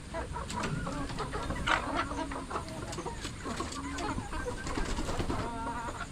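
Several chickens cluck and murmur continuously at close range, with scattered sharper calls over a steady barnyard bed of sound.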